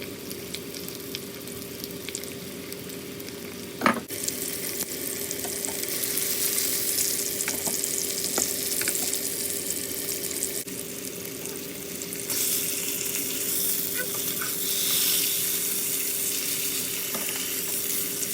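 Rupchanda pomfret fish fries in a pan with a continuous, close sizzle and crackle that grows louder in the later part, a faint steady hum underneath and no talking.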